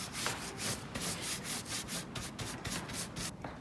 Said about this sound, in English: And you can also shave them.